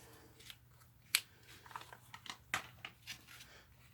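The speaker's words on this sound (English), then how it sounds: "I'm going to use scissors and just cut it." Quiet snips of scissors cutting through card, a couple of sharper cuts among softer rustling and handling noises, close by.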